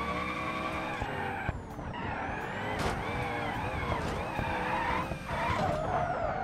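A drifting car in the BeamNG video game squeals its tyres continuously over a high, rising and falling engine whine, with the skid sustained and loud throughout.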